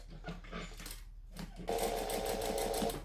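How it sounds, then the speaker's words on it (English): A sewing machine top stitching waterproof lining starts up about halfway through and runs in a steady, fast mechanical whirr for over a second, preceded by fainter handling noises. "we're going to flip this over and top stitch it while it's in the machine"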